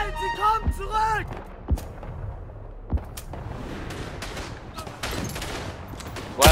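Gunfire in the World War I shooter Verdun: several sharp shots crack out amid battlefield noise, with voices talking over parts of it.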